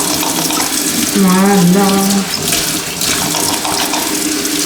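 Water runs steadily from a tap during washing with hand soap, a continuous close splashing stream with a brief rising tone, under brief speech.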